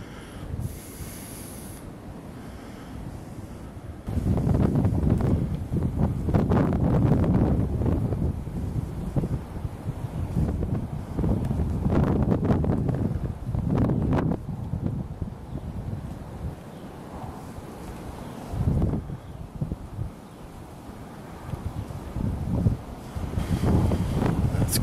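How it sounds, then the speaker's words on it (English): Strong gusty wind buffets the microphone outdoors during a small-town gun season hunt, blowing about 30 mph with gusts up to 30, a loud rushing roar that surges and fades in waves. "Wind's blowing about 30 gusts up to 30 mile an hour"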